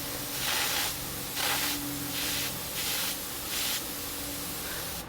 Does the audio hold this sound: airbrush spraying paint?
yes